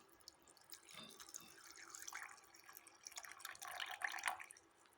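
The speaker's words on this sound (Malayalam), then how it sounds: "പച്ചവെള്ളം ഒഴിച്ച് കൊടുക്കുവാണ്." Plain water poured into raw mango for juice, a soft, steady trickle and splash that stays faint and close, with no talk over it.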